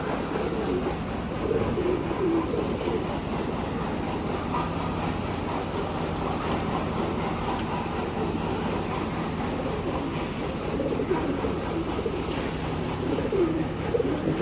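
Domestic pigeons coo in a loft, soft repeated throaty calls over a steady low background hum, with no talking.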